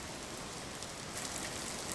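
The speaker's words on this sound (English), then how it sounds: "This rain's so strong it feels like it could drown me." Steady, dense rainfall pouring down in the video game Jasei no In (The Serpent's Lust), a constant broadband wash of drops with no pauses.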